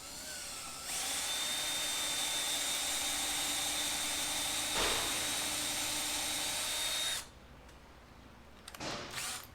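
A power drill with a larger bit bores through a plexiglass sheet as part of a DIY watercolor board, a steady high whine running for about six seconds before stopping abruptly, followed by faint handling clatter.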